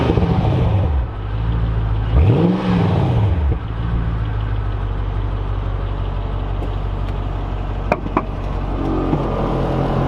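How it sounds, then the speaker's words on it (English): A Mercedes CL55 AMG engine with resonators deleted idles with a deep, throaty exhaust drone, revving briefly once near the start before settling into a steady rumble. "We deleted the resonators on this, so it's got a little bit of throaty sound to the exhaust."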